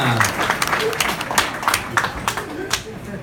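Scattered audience applause at a Hall of Fame induction event with a bluegrass theme, a few distinct claps and light crowd noise with brief voices mixed in, moderately close.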